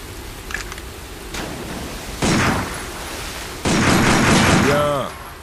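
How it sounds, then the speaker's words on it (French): Pistol fired at a sign target in the shooter Binary Domain, a few sharp reports spaced seconds apart, each a loud broadband burst, with a short ringing metallic ping after the last, amid game ambience. "Dégaine ton pistolet et tire sur ce panneau"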